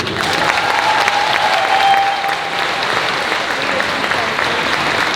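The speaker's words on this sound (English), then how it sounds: "Give yourself a round of applause" An audience at a fan convention Q&A gives a sustained, loud round of applause mixed with crowd noise, with a brief whistle-like tone early on.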